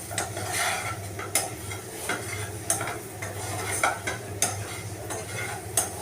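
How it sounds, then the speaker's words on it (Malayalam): Onions and Kashmiri chili powder are stirred in a pan for a roasted-coconut chicken curry, with a spoon scraping in repeated strokes over a steady, close sizzle. "ഇതിലേക്ക് കുറച്ച് കാശ്മീരി മുളക് പൊടി ഇടണം എന്നിട്ട് നന്നായി ഇളക്കുക"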